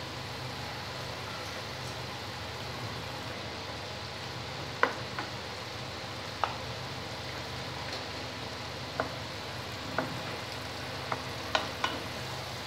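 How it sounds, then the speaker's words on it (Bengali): Fried tangra fish dropped into a boiling radish curry in a pan, giving a steady bubbling simmer broken by a few sharp little pops and spits, close and moderately loud, with no talk. "ঝোলটা ফুটে উঠেছে আমি এবার ভেজে রাখা মাছগুলো দিয়ে দিচ্ছি"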